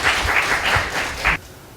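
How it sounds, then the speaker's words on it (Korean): Applause from a lecture-hall audience greeting a speaker at a technology management class, a short burst of brisk clapping that cuts off abruptly, no voices over it. "자, 큰 박수로 우리 신범수"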